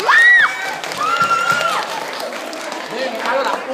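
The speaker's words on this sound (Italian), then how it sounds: "Un applauso per Viola, per favore" Applause and cheering from a group of children and adults at a birthday party, with whoops and shouted voices over steady clapping, fairly close and lively.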